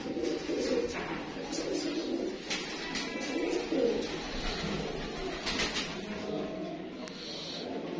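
French pigeons cooing on a rooftop, soft repeated low coos in a steady rolling rhythm, close by with faint background noise and no talk.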